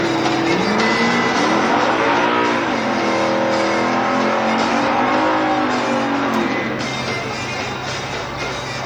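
A 1969 Dodge Dart GTS and a 1969 Chevrolet Nova SS drag race in factory stock trim, their V8 engines revving and rising in pitch as they accelerate away, loud at first and fading with distance.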